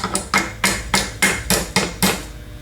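Light hammer taps knock rectifier parts out of a Denso alternator held loosely in a vise, eight evenly spaced metallic taps in steady rhythm, close and clear with no talking.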